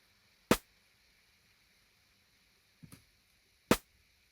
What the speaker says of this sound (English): the original sounds is from a side stick